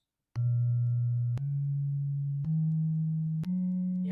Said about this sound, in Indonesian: Ini disebut dengan selentem. Ya. Lihat suaranya halus.